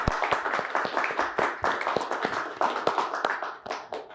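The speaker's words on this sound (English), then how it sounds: "Let's give a nice round of applause for both teams today." A small crowd at a high school quiz competition claps steadily for a few seconds, dense overlapping handclaps with a lively, uneven rhythm.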